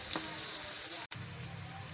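Onions frying in oil for chicken karahi give a continuous, close crackling sizzle, broken by one very brief dropout midway before the sizzle resumes at the same level.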